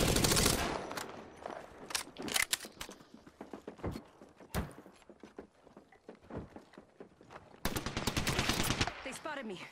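Gunfire in Apex Legends comes in rapid bursts and single shots throughout, loud and close, with dense automatic volleys at the start and near the end.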